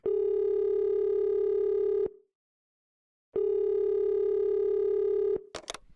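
A telephone dial tone rings out while calling a podcast guest: two long, steady, loud electronic tones with a clean pause between them, followed by a brief clatter as the line picks up.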